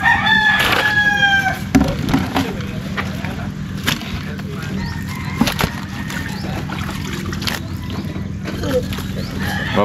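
A rooster crows amid a busy outdoor scene, its call rising near the start and echoed faintly later, set against steady background noise with people talking nearby.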